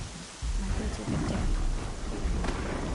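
Rain and thunder in the video game Horizon Zero Dawn: steady rain hisses while a deep rumble of thunder swells in and rolls on, loud and continuous, with no speech.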